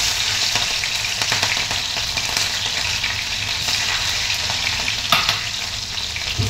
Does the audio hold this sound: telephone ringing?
no